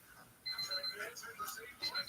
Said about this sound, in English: oh, there's one of my morning alarms